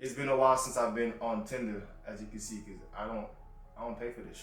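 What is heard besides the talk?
None of the usual background noises is heard.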